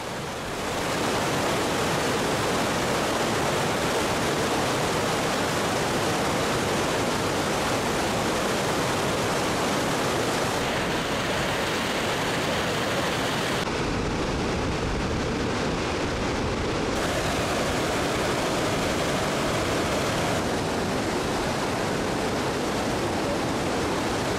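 A dense, continuous roar of rushing water from the Otta river in Norway fills the whole stretch, loud and steady like a fast river or cascade close by, with no voices.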